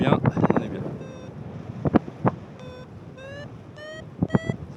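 Wind gusting over a mountain slope at Salève, steady rushing noise with louder buffeting bursts on the microphone, accompanied by intermittent electronic beeping tones.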